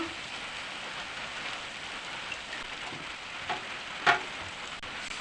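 Onions and peanuts frying in a pan, a quiet, steady, rain-like sizzle with a few faint crackles and one brief louder pop toward the end.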